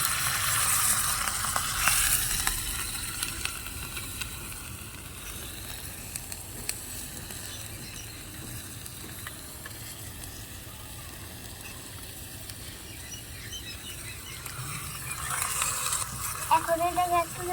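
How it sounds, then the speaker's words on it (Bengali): Onions fry in a pan while being stirred, a continuous quiet sizzle with scraping stirs near the start and end, and a few soft knocks in between. "এবার পেঁয়াজটাকে একটু নাড়াচাড়া করে নেবো।"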